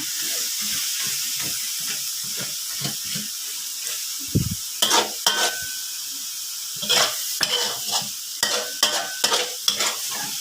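Frog pieces stir-fry with cumin leaves and fresh bird's eye chilies until dry, producing a constant close hiss of sizzling punctuated by repeated bursts of spatula scraping against the pan, no talking.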